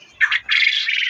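Racing pigeons from a Feni club loft give two short squawking calls, a brief burst and then a longer sustained call, close by with no talk.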